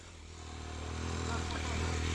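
An off-road motorcycle on a mountain expedition accelerates in second gear, its engine droning steadily and swelling louder as it pulls away, with voices talking over it.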